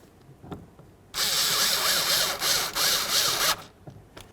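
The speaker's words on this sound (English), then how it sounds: "Let's go ahead and put in our screw." Power driver running a screw into a 1998-2002 Honda Accord door panel: after a faint tap, one sustained buzzing whir lasts a little over two seconds, close and loud, then cuts off abruptly.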